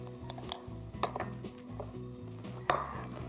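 Garlic with green and red chilies sizzles in a pan for chicken fried rice, a soft steady frying hiss broken by a few clinks and scrapes of stirring, with no voices.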